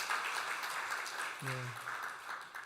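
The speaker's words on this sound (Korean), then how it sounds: "우리 박수로 축하하도록 하겠습니다" A church congregation at a Sunday worship service applauds a member's promotion; fairly quiet, steady clapping runs throughout, with a brief voice heard partway through.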